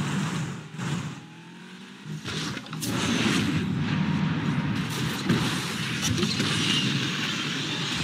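A race car engine in a racing video game roars and revs continuously, starting with a few surges and then settling into a sustained loud drone with no talking.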